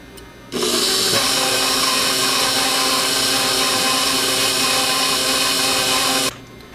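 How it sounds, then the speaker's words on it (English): A stand mixer works shaggy bread dough in a home kitchen, giving a steady loud motor whine that starts abruptly, holds evenly for several seconds, then cuts off. "You'll see the dough is looking pretty shaggy as it's mixed."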